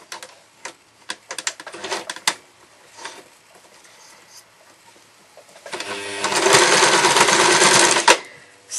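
A sewing machine stitches fabric for a baby puppet's feet. Scattered clicks and taps come first, then a loud, close, steady motor run of about two seconds, with no one speaking.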